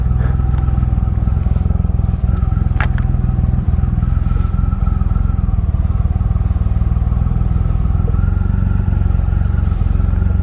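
A 2.3-liter production motorcycle engine, the biggest of its kind, runs steadily up close with a deep, even, throbbing rumble and no pauses.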